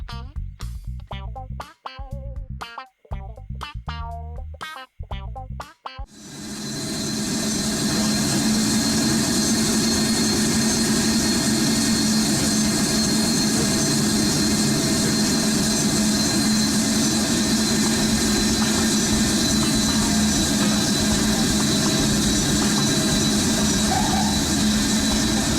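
Boeing 757 jet engines on landing in the Project Flight game: choppy, broken bursts of sound at first, then a loud, steady, unbroken engine roar that holds to the end.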